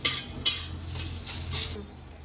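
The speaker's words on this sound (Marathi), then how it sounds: "आता हे मिक्सरच्या भांड्यामध्ये सगळं काढून घेऊया" Cooked ingredients for a green masala Shrigonda amti are scooped from a pan into a mixer jar, with a couple of sharp metal clinks and scraping spoon sounds, close and moderately loud, with no talking.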